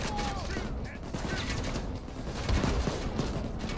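Dense gunfire in the video game PayDay 2, continuous crackling shots layered under a busy mix of game noise, with a voice talking over it.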